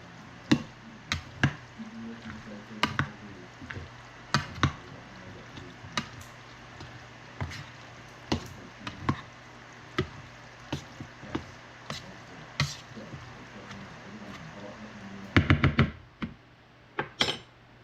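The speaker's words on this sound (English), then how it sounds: "we're just stirring it all up" Salad ingredients stirred together in a bowl give a steady run of soft, wet clicks and squishes, close and moderately loud, with a denser cluster of taps near the end and no talking.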